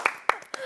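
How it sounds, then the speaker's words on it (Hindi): A few separate hand claps, about three sharp claps spaced apart, near and fairly faint, with a voice talking over them. "ताली बजाओ।"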